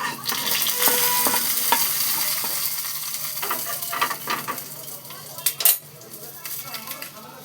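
A tempering of curry leaves and mustard seeds in white oil is stirred into a dish, producing close, repeated spoon scrapes and clinks against the vessel over a light sizzle, with one loud knock near the end.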